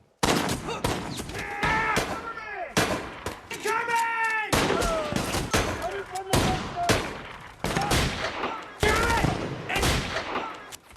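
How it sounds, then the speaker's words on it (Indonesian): Gunfire from a firefight between Japanese and American soldiers in a war film, dense bursts of rifle and machine-gun shots with sharp cracks, loud and close, mixed with shouting and a voice speaking over the battle. "Walaupun baku tembak terjadi, pasukan Kapten Oba tetap kewalahan menghadapi tentara Amerika"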